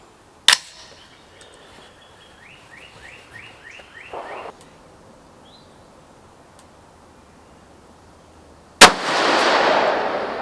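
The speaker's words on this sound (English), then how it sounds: "So I'm going to go ahead and shoot my first shot." A rifle fitted with an ATN X-Sight 4k Pro scope fires outdoors: a sharp crack near the start, faint ticks and chirps in quiet ambience, then a second loud bang near the end followed by a rushing tail.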